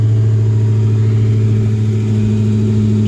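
A 2021 Dodge Charger Hellcat Redeye engine drones steadily on the road, a loud, continuous low rumble with no clear revs or breaks, alone without talk.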